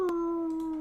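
A person imitates a wolf howl, a single sustained tonal howl with a steady pitch that holds for nearly a second, close and clear with no other sounds.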